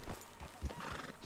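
A horse in the video game Red Dead Redemption 2 gives a single close, loud neigh with a clip-clop of hooves, about a second long with no talking.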